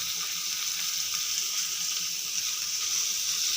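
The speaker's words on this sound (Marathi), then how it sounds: "जेणेकरून सर्व बोंबील आपल्या समप्रमाणात फ्राय केले जाते" Bombil, Bombay duck fish, frying in hot oil in a pan, a steady, dense sizzle and crackle that holds even throughout, close and fairly loud, with no talk.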